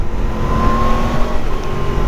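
A Yamaha FZ-10 motorcycle with a cross-plane engine accelerates hard, a steady loud engine roar with a whining tone rising slightly, continuous throughout with no talking.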